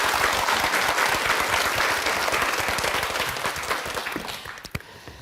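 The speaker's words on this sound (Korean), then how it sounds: "그녀의 지혜, 결단력에 우리 다 같이 박수 한번 쳐주시죠." A lecture audience breaks into full, dense applause, strong at first and gradually thinning and fading toward the end, with a few last isolated claps.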